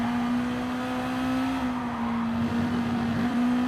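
Honda NSX race car engine at Suzuka in the racing game GT Sport, a steady loud drone held at near-constant pitch under throttle, with a faint dip and recovery partway through and no talking.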